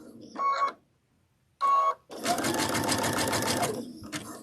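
A sewing machine stitches a rope bowl. Two short bursts of stitching are followed by a longer steady run of rapid needle strokes, close and clear.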